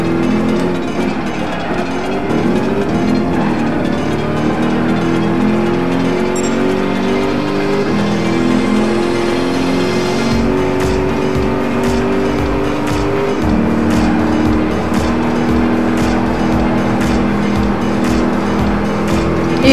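Race car engine in Gran Turismo 5 revving loud and steady throughout, rising and falling through gear changes with a sharp upshift near the middle, constant and close with no talking.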